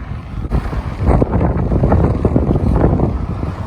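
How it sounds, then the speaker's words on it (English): Strong wind buffeting the microphone while cycling in Japan between Toyama and Nanao, a loud continuous low rumble and roar with gusty surges. "Ooh, windy up here."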